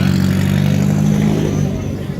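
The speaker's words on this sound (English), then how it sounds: "Phil Campbell on his way in the new Ford Fiesta AP4." A Ford Fiesta AP4 rally car pulls away with a loud, steady engine drone that holds near, then fades slightly as it moves off, with voices audible over it.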